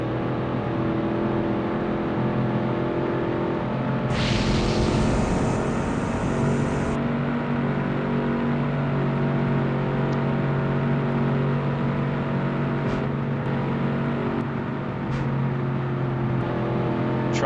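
Classic Ford and Chevy muscle car engines racing in a video game: a continuous close engine roar with revving and shifting pitch throughout, with no speech.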